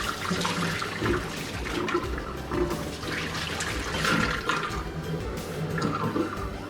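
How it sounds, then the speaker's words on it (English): Boiling hot water pours steadily and gurgles down a drain after baking soda, a continuous splashing rush with no voices. "follow up with a quart of hot boiling water."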